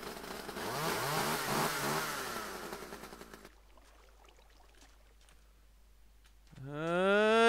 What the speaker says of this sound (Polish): Słyszałem piłę spalinową.